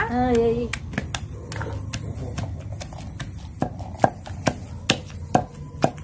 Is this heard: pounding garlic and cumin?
yes